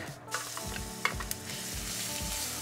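Eight garlic cloves sizzle and fry in rendered pork belly fat in a pan, a close, steady crackling hiss with a few sharper pops and light stirring clatter.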